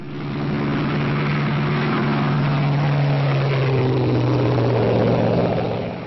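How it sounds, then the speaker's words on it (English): A steady engine drone with a low propeller-like hum, holding constant throughout, like a small aircraft flying by at moderate distance. "we have an audio file to represent the sound of the plane"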